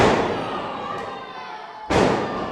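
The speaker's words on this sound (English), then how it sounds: "Driving the knee now directly into the center of the spine of Haviko." A wrestler drives a knee into an opponent's back in the ring at a pro wrestling show, heard as a sharp, loud impact near the end, amid a noisy crowd roar and commentary.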